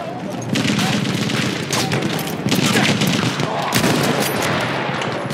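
Enemy machine gun fire in Battlefield 1 Apocalypse, sustained rapid bursts rattling across a dense battlefield din with distant booms layered underneath, continuous and loud throughout.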